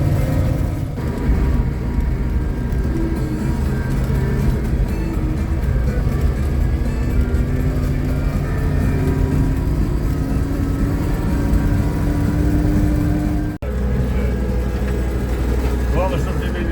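Steady, loud engine drone and road rumble from a GAZ-66 truck driving along the Inta highway near Magadan, continuous throughout with voices talking over it.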